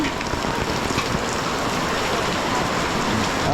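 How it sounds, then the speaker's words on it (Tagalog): Steady, loud rain pours down outdoors during a storm at a birthday gathering, a dense continuous hiss with no voices for the whole stretch. "Ulan."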